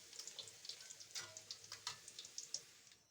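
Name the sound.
tempeh frying in plenty of oil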